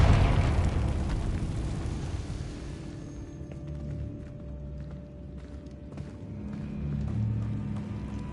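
A Confringo explosive spell blast in the Hogwarts Legacy video game, a loud burst opening the clip that decays into a rumbling tail, followed by quieter clanks, footsteps and low ambient rumble, with no talking.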